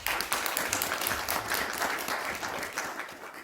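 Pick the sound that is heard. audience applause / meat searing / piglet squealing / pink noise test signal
audience applause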